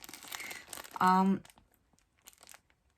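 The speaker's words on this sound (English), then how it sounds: "Sorry about the crinkling." Plastic packaging around a skein of knitting yarn crinkles in a loud, brief burst lasting about a third of a second, close by, between stretches of someone talking.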